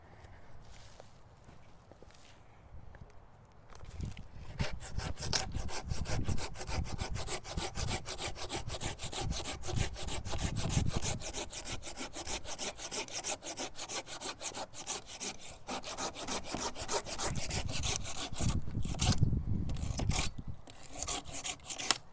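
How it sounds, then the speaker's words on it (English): A hand saw cutting through a tree branch: steady rapid back-and-forth rasping strokes, close and continuous for most of the stretch after a quiet start, with brief pauses. "my favorite thing to use whenever I'm doing all of this is the hand saw"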